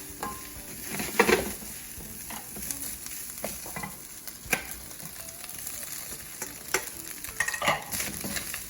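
Ground beef sizzles in a pan with curry powder and cumin, stirred with scraping utensil strokes at irregular intervals, a steady frying hiss running underneath throughout.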